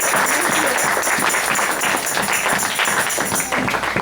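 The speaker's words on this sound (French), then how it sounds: "Acclamez pour la foi." A church congregation claps in a sustained, dense patter of applause that runs throughout, with voices mixed in under the clapping.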